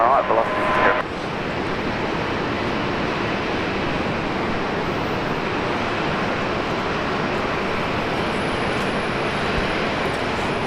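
A Bombardier Q400 turboprop at Brisbane Airport gives off a loud, steady, broadband roar that holds level and continuous throughout, with no break.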